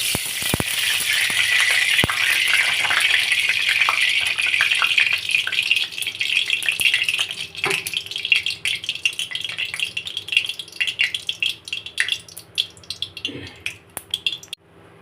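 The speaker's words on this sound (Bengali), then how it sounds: "বন্ধুরা, কড়ায় এই সাদা তেল দিচ্ছি, একটু সর্ষের তেলও দিয়ে দিলাম।" White and mustard oil go into a kadai, making a bright, steady sizzling hiss with a few metallic clinks. The sizzle grows patchier and fades toward the end.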